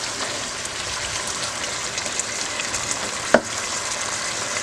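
Tomatoes fry over high heat in a biryani pan with a steady, close hiss of sizzling oil, broken once by a brief stir or clink.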